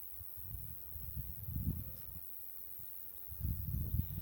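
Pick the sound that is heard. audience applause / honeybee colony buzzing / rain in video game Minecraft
honeybee colony buzzing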